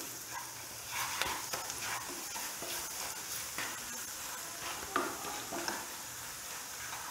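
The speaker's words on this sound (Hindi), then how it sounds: "अब इसमें 2 स्पून बेसन ऐड करेंगे और अच्छी तरह बेसन को पका लेंगे।" Gram flour (besan) stirred and cooked in a pan for kachori stuffing: soft frying hiss under repeated scraping spoon strokes and light clinks of the pan, close but fairly quiet, with no talking.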